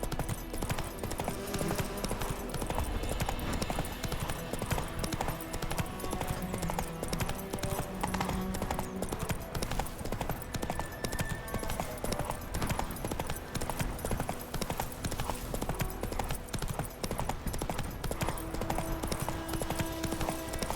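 Roach the horse galloping in The Witcher 3, rapid rhythmic hoofbeats drumming steadily and close throughout, under a busy bed of game ambience and music.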